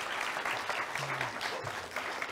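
Audience applause welcoming guests onto the stage at a live conference session, a steady dense wash of clapping lasting throughout, moderately loud and close, with no talk over it.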